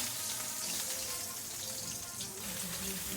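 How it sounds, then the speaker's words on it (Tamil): Mustard seeds spluttering in hot oil, a continuous dense crackling sizzle heard close and even throughout, with faint speech in the background. "நல்லா கடுகு பொரியட்டும்."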